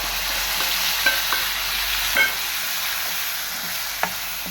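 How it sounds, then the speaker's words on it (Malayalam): Raw prawns fry in a pan with fennel powder, giving a continuous close hiss of sizzling oil with a few light clinks and stirring taps, and no voices. "നമുക്ക് അതിലേക്ക് ചെമ്മീൻ ഇട്ട് കൊടുക്കാം."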